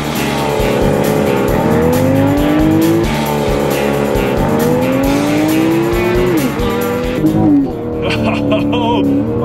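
A 2012 BMW 335i with a turbo launches hard under launch control at altitude. The engine is loud and close, climbing in pitch through several quick, sharp gear shifts, with no talk.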